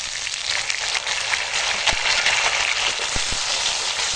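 Potato pieces and chopped tomatoes frying together in a pan, a continuous close hiss and crackle with scattered pops throughout, no talking.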